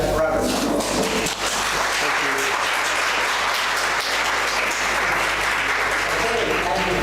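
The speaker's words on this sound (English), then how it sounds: "let's give a round of applause." A round of applause from the audience at an international academic conference session, a full continuous patter of many hands clapping nearby for several seconds, with some background voices beneath.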